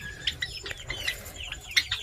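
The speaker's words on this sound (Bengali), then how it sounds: "সাইডে পাখি আছে এই সাইডে পাখি আছে" Small birds chirp and tweet repeatedly in quick, high bursts from a backyard area beside a chicken coop, fairly close, with no voices.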